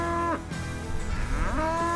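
Beef cows that have left their calves to come looking for feed moo loudly and close by, with long drawn-out calls overlapping one another.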